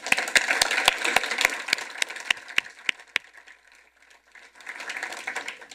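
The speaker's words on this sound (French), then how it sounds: "Accordons-leur nos applaudissements." Sparse applause from a small audience at a press conference, with distinct individual hand claps at first that fade to near quiet, then a softer patter of clapping resumes.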